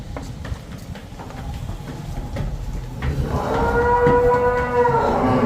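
A cow on a dairy farm near the Ravi river lets out a single long, fairly close moo in the last couple of seconds, following a stretch of quiet outdoor background noise.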